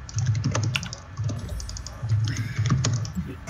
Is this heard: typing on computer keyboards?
yes